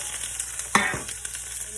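Onions hit a hot pan and start sautéing, giving a low sizzle with a brief burst of stirring and frying noise near the middle.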